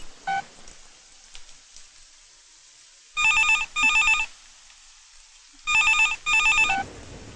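A telephone rings in two separate bursts of paired electronic trills, loud and close, with quiet gaps between the rings.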